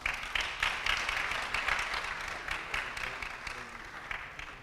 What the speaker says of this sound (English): So yes, another round of applause, folks.